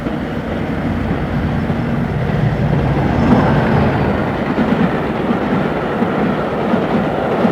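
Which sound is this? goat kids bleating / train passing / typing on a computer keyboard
train passing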